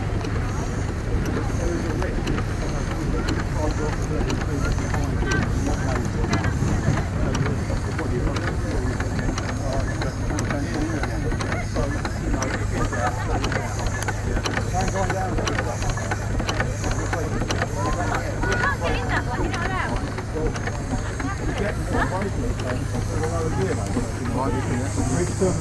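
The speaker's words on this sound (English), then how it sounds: "It's a quiet steam engine." A steam traction engine at a rally at Euston runs with a steady low hum and hiss throughout, a soft rhythmic chuff beneath and people chatting nearby.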